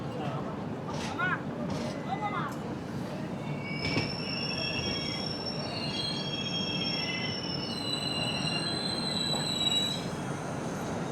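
An Indian express train on the Mumbai to Coimbatore route slows into Mantralayam Road station, wheels squealing in high, shifting tones over a steady rumble and clatter, with people talking nearby.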